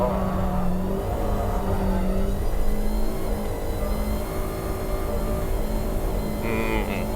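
A Nissan Elgrand minivan accelerates hard around the Tsukuba circuit, its engine droning steadily and rising in pitch, loud and close from onboard, with a brief higher whine near the end.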